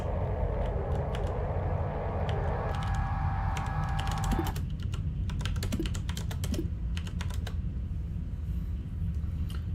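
Keys clatter on a computer keyboard while the game Duskers is played, a steady stream of quick, close clicks with a dense burst of keystrokes over a low background hum.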